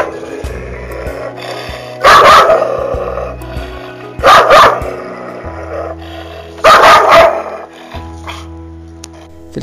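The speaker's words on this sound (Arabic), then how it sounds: "لما الكلب ينبح نباح لا يتوقف مع زمجرة واضحة في الحد" A dog barks in three loud, close bursts of several harsh barks each, with lower rough growling sounds between them.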